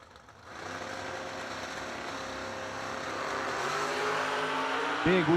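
Drag race cars, a 2002 Camaro against a Blazer, launch at a bracket racing event, and the engine roar builds steadily and loud over about five seconds, with a rising whine near the end and no speech.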